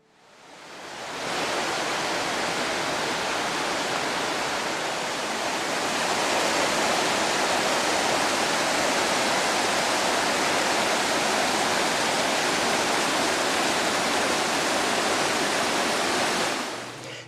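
A steady, roaring rush of falling water fills the whole stretch, loud and close, with no voices.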